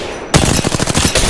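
Gunfire in the video game Apex Legends: after a short quiet lead-in, a loud automatic weapon fires a rapid, even string of shots lasting about a second, close and alone.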